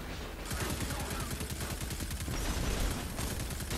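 Rapid automatic gunfire in the sci-fi shooter Destiny 2, a dense run of repeated shots holding steady at close range for several seconds, with heavy low-end thumps and no voices.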